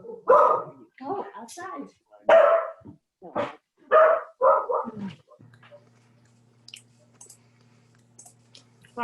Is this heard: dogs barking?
yes